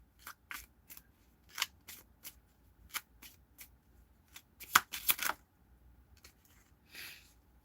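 Tarot cards being shuffled by hand nearby: quick, crisp riffling snaps and slides in irregular bursts, with a busier flurry midway and quiet pauses between.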